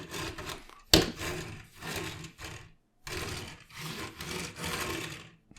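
Plastic wheels of a Transformers Studio Series 86 Brawn toy truck rolling across a surface in several short back-and-forth runs, a close rumbling roll with a sharp knock early on.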